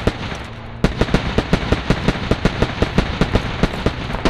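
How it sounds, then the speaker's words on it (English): Repeated explosive blasts from a Squad video game battle as an enemy base is blown up, sharp bursts recurring in a steady rapid rhythm over a dense rumbling background, loud and close. "Blew up one of their lodges."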